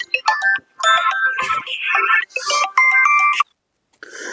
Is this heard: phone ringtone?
yes